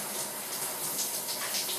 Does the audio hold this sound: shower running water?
yes